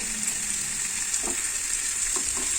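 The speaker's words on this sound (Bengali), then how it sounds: "এবার চিকেনটা দিয়ে দিলাম চিকেনটা এবার আলু গাজর পেঁয়াজ খাবার সাথে ভালো করে একটু নাড়াচাড়া করে নেবে" Washed chicken pieces sizzle steadily in a hot pan with potato, carrot and onion for a restaurant-style chicken stew, with a continuous quiet frying hiss and a few soft scrapes and knocks from the stirring.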